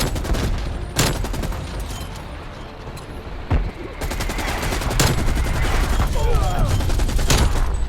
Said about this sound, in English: He's just shooting.